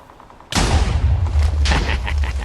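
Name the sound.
cannon firing in a video game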